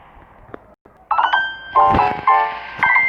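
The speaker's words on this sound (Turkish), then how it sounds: "Aa yine canlı yayından bildirim geldi ya." A live-stream app notification chiming on a phone during a PUBG Mobile Lite session, with several bright, loud melodic tones in quick succession.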